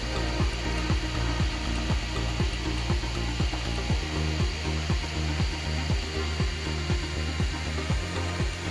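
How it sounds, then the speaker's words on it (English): An Ender 3 3D printer fitted with a Hero Me Gen 5 cooling setup prints a 240 mm bridge, giving a steady mechanical whir with rapid, regular ratcheting stepper clicks, continuous and close. "we put the YouMakeTech Gen 5 to the test by printing an insane 240"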